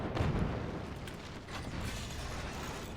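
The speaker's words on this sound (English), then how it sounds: "But there's another howitzer round." A howitzer round explodes in the artillery strategy game Forts: a dense, rumbling, crunching blast that rolls on as sustained mechanical debris noise for several seconds, fairly loud and with no voices.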